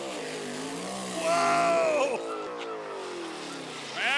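A 2006 Pontiac Sunbird race car engine revs and roars up close with rising and falling pitch, a tire squeal cutting through midway, while a voice exclaims over it.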